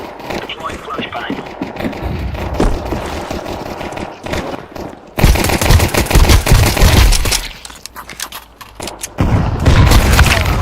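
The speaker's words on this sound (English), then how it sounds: "Deploying flashbang." A flashbang grenade goes off in Counter-Strike 2, a loud burst hitting partway through amid a dense barrage of gunfire, booms and game noise, with a player talking over the action.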